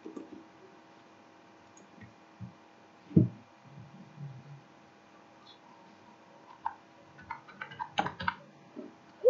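Keys on a computer keyboard tapped while entering a mobile number into an online form, heard as sparse, faint clicks in short bursts over a steady low hum.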